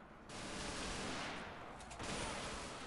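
A fast-firing, recoilless gun in the UGX mod of a zombies video game lets out a dense, continuous burst of rapid shots that fills the whole moment.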